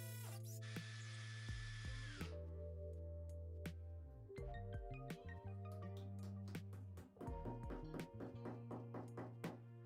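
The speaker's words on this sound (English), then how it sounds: "and it drills into brick, no problem at all." An Excel 18V brushless combi drill, model 30365, runs in hammer mode boring into brick, whirring close and loud with pulsing changes in pitch as it bites and briefly eases off.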